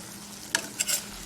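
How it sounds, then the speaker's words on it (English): Red onions sauté in olive oil in a pan, giving a faint steady sizzle broken by a few quick scraping stirs. "starting with sauteed red onions in olive oil"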